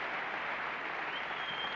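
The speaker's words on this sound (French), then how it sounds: "Et la foule qui essaye de soutenir le cadet" Crowd applauding steadily to cheer on younger brother Patrick McEnroe at the 1991 Chicago tennis final against John McEnroe, a dense, even wash of clapping with no talk.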